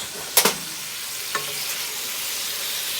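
Onions for tinga fry in a pan under a soft steady sizzle, with two sharp scrapes of a spoon at the start and a lighter one a second later.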